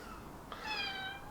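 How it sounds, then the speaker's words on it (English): A house cat meows once, a clear drawn-out cry rising over a quiet indoor background, close to the listener and heard alone without talk. "The cat's playing up soon."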